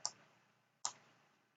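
Two crisp, quiet mouse clicks, close up and spaced under a second apart, with near silence between them.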